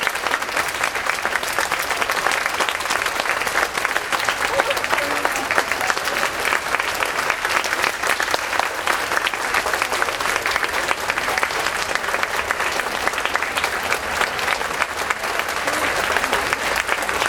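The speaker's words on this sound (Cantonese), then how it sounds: "掌聲唔好停" An audience at the 2006 intervarsity debate final award ceremony claps continuously, a dense, even wash of applause sustained without a break, with a few voices faintly mixed in.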